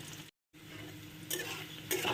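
Garlic frying in oil for dal, a faint steady sizzle in a pan with a couple of soft stirring scrapes.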